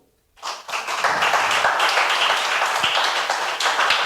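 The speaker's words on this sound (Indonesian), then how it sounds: "Silakan kasih tepuk tangan dulu untuk Akil." Classroom applause for a student named Akil, a burst of many hands clapping that starts suddenly and holds steady and fairly loud throughout, with no talk over it.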